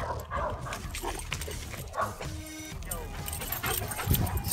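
A dog in a park gives small yips and whimpers amid steady outdoor background noise, fairly close, with a person talking at times.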